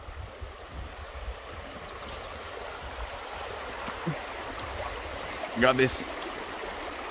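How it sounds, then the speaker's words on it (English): A river flows right beside a campsite, a broad steady rushing wash throughout, with a brief spoken phrase and some handling noise near the end. "lovely river right next to us."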